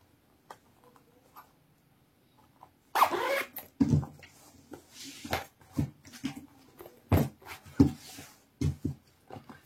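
A front zipper being worked on a freshly sewn bustier, giving a run of short close scraping and clicking bursts after a quiet start, with no talking.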